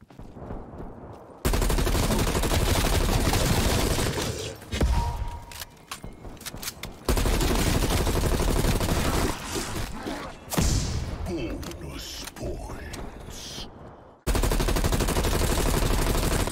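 Call of Duty Cold War Zombies gunfire on PS5: long, dense bursts of automatic shots and heavy impacts that come in waves, broken by brief near-silent gaps, with a little faint talk.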